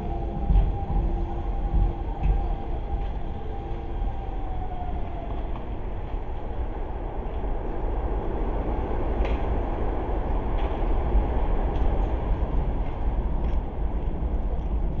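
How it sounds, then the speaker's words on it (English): A train arriving at Chibune station in Japan, a steady broadband rumble of wheels and motors that holds loud and constant throughout, with a faint whine fading early and no voices. "The train is coming."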